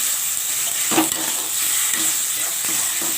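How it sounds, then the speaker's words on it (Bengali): A chili, cumin and ginger paste fries in hot mustard oil: a loud, steady close-up sizzle with a few soft stirring scrapes and taps. "এখন লঙ্কা বাটা দিয়ে দিচ্ছি। লঙ্কা জিরে আদা বাটা এটা"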